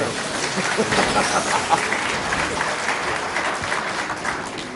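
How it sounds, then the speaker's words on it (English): A small group of spectators at a live stage demo at the PAX gaming convention claps steadily for several seconds, a dense close patter of hands that holds an even level throughout. "All right, round of applause."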